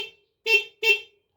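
Stock horn on a Yamaha NMAX motorcycle gives two short, bright beeps about a third of a second apart, close and fairly loud, with a faint tail of an earlier toot at the very start.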